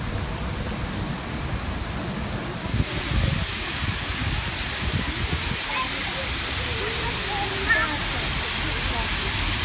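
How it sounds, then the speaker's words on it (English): Water running and splashing along a railing beside a pool, a steady broadband rushing wash that stays continuous and fairly close throughout, growing slightly fuller after the first few seconds. "Just water everywhere running along the railing here"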